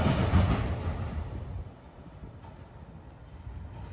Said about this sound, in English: Started out as a mixed freight, ended up being auto racks